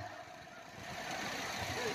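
A tractor engine runs at an ulak kupkari (horseback goat-pulling) gathering in Urgut, a steady, slightly rough rumble that swells a little toward the end, with crowd noise and voices around it.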